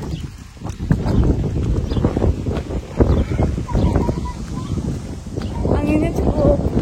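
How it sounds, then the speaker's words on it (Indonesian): Strong wind blowing outdoors in an Eastern European village, buffeting the microphone with steady gusty rumble while a person talks over it and faint background activity comes through. "Anginnya cukup ini ya, cukup kencang."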